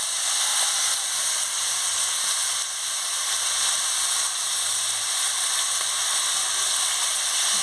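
Steady, loud sizzle of murla fish frying in hot oil in a pan with onion and green chilli, a continuous bright hiss lasting throughout with no talking.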